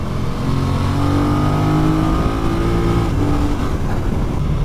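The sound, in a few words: KTM or Yamaha twin-cylinder motorcycle engine accelerating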